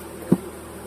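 Honey bees buzz at an open hive: a faint, steady hum with one brief, louder buzz close by, and no voices.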